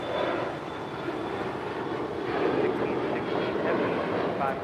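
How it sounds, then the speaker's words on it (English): Emirates Airbus A380 airliner taxiing at LAX toward the Tom Bradley terminal gates, a steady, loud jet engine rumble and whine that holds evenly throughout without a break. "Of course, that is the Emirates A380."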